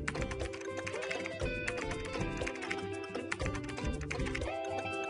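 Fingers type on a computer keyboard to enter login details while setting up a 4G gateway, giving dense, fast key clatter that runs steadily through the whole stretch and sounds close. No one speaks.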